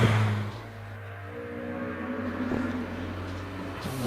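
A Ginetta G40R race car climbs the hill at Prescott, its engine a steady mid-distance drone with gear-linked pitch changes and a brief throttle blip, no voices over it.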